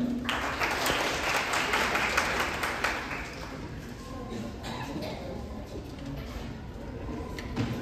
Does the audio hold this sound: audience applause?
yes